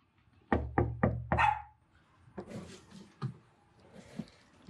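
A dog barks four times in quick succession as an added sound effect, loud and close, followed by softer scattered thumps and faint noises.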